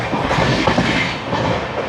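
Passenger train running fast between Repalle and Secunderabad, a steady loud roar of wheels and carriages with rhythmic clickety-clack over the rails, continuous throughout with no voices.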